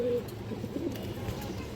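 A domestic pigeon kept for sale coos softly and low in a steady, throaty rhythm, close by, with a low murmur of voices in the background.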